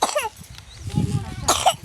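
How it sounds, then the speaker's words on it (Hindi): A person coughs a few times in quick bursts close to the microphone, a rough throaty hacking with brief pauses between fits. "मेरी खांसी लग गई"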